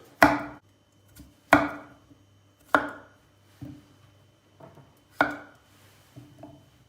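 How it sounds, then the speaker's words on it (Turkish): A knife strikes a cutting board in slow, uneven chops, cutting potatoes into large pieces, about six firm thuds with quiet pauses between them, close by. "Patatesler aynı yahnilik gibi büyük doğranacak."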